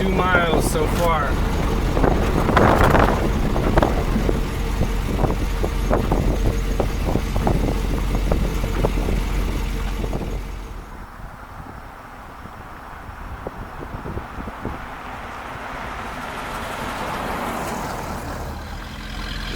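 A worn-out 1957 Oldsmobile Rocket 88 with four-wheel drum non-power brakes, back on the road after 36 years, rumbles along with engine and road noise and wind buffeting, easing into a quieter cruise partway through.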